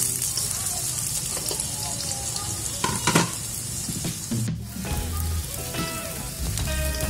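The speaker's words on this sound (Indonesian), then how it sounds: "Kita tumis sebentar sampai benar-benar wangi." Onions and spices sautéing in hot oil for spicy tumis kikil, a dense crackling sizzle with occasional spoon clinks and stirring scrapes, close up, with a brief voice in the background.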